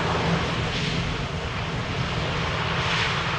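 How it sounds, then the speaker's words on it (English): A Delta Airbus A330 heavy jet taking off at Schiphol Airport, a steady broad engine roar with a faint whine, sustained and fairly distant, without voices. "Seems to be a Delta A330 taking to the skies."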